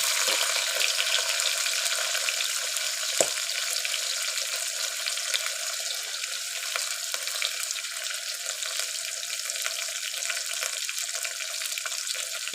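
Onions and curry leaves frying in hot oil for tomato rasam, a steady bright sizzle that holds evenly throughout, close and continuous, with one sharp utensil tap near the start and no talking.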